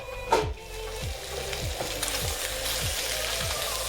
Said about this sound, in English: So you want to fry it on high heat so that it can brown